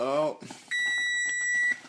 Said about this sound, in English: Gonna stop that timer.